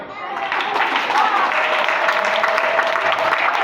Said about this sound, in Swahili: Wapigeni makofi ya wanaume.